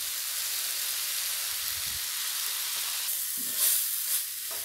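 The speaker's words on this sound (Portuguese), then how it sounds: "Agora é só continuar mexendo para o sabor pegar em toda a farinha e já tá pronta a nossa farofinha." Bacon-flavored farofa of cassava flour sizzles in a pan while being stirred, a steady soft hiss with a few louder scraping bursts near the end.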